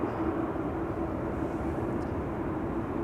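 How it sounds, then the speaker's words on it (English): An Airbus A380 taxiing at Amsterdam Schiphol Airport, a steady distant engine rumble and whine holding evenly throughout with no talk. "can you see the A380 taxiing?"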